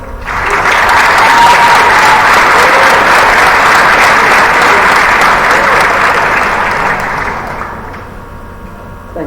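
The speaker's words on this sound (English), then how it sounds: "please welcome him with a warm applause" Warm applause from a symposium audience at a student assembly, welcoming a speaker to the stage; steady dense clapping swells quickly, holds for several seconds, then tapers toward the end.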